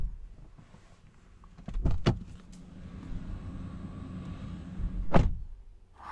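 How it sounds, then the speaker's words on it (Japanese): The door of a 2020 Toyota Harrier Hybrid Z Leather Package shuts with a solid, slightly metallic thud, heard twice, a few seconds apart, close by and otherwise quiet. "ドア閉めた音聞いてみましょう"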